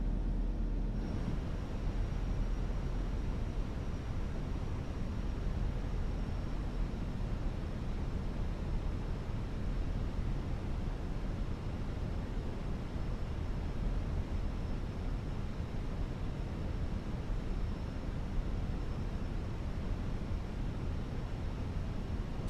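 Fenix A321 airliner engines in Microsoft Flight Simulator, a steady broadband roar with a faint high whine held at constant level throughout, no voices over it.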